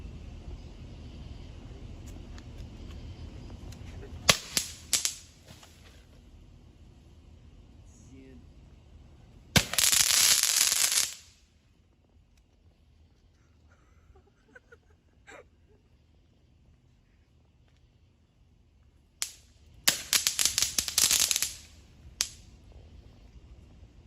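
Pop-Its TNT snappers burst inside a piñata in a few scattered sharp pops, with louder crackling bursts of a second or so each, separated by long quiet gaps.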